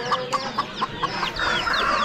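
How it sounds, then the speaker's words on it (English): Hens clucking at an animal auction in short, repeated bursts at a steady rhythm, then a denser run of overlapping clucks and chirpy calls, fairly close. "Hen and chicks."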